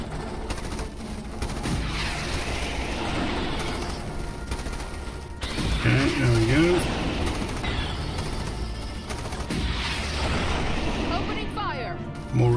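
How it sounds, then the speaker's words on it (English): Machine gun fire in the strategy game Starship Troopers Terran Command, defending a base against Arachnid bugs. A continuous rattle of gunfire and impacts runs throughout, mixed with battle noise and radio-style voice lines. "Looks like the machine gun can hold it."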